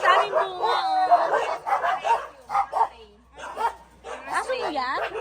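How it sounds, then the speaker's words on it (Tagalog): A full husky barks and yips repeatedly in an outdoor yard, close and lively, in several bursts with whimpery pitch swoops, mixed with people talking. "Aso mo yan?"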